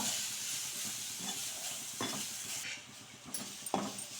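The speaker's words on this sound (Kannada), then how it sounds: "ಇವಾಗ ತೆಂಗಿನಕಾಯಿ ಸ್ವಲ್ಪ ಹುರ್ಕೊಳ್ಳಿ ಇದನ್ನು ಸ್ವಲ್ಪ ಸ್ವಲ್ಪ ಫ್ರೈ ಮಾಡ್ಕೊಂಬಿಡಬೇಕು" Grated coconut fries in a pan for a leafy-greens chutney, giving a steady soft sizzle with occasional stirring scrapes and clinks, close and continuous without speech.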